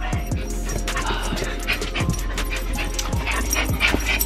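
Excited dogs whimpering and yipping in quick repeated bursts, close and loud, with panting and a person's voice talking faintly underneath.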